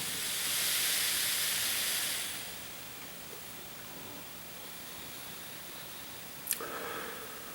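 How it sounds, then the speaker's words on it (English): Beer fizzes in a glass, a soft, steady hiss that rises and fades over a couple of seconds, then settles into faint quiet noise with a small tap near the end. "little bit of fizz there."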